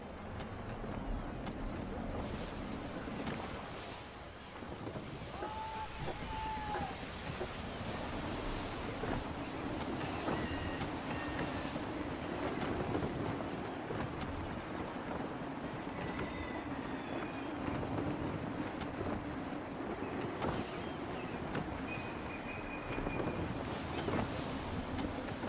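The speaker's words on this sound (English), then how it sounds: "Gusty winds can be difficult to manage." Gusty wind roars steadily around a sailing ship at sea in Assassin's Creed III, with waves and creaking rigging beneath it and faint calls and whistles now and then over the constant rush.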